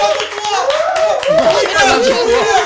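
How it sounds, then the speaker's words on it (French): A small group claps during a food challenge show, the quick claps mixed under loud overlapping voices, chatter and laughter close by. "Deuxième applaudissement"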